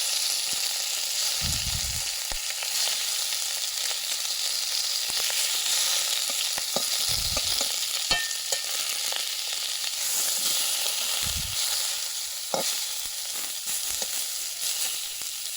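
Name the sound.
chicken meat frying in a pan for momo soup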